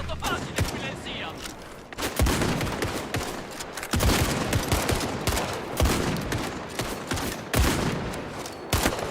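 Gunfire fills a fight at a hotel in Siam in Indiana Jones and the Great Circle, with repeated heavy bursts and sharp shots in irregular clusters, loud and close, while voices call out in between.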